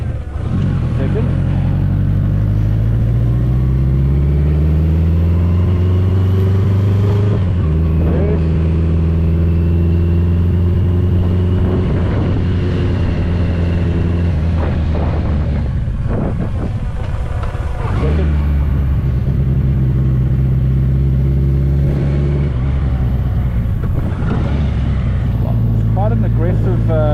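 A BMW K100 cafe racer motorcycle is ridden, its engine loud and close with rising and falling pitch sweeps as gears change, with a rider talking over it.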